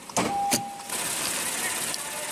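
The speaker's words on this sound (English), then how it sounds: "Automatic driver's side window." The driver's side automatic power window on a 2015 Acura TLX hums as it moves, a short steady motor whine after a couple of clicks, close and fairly quiet.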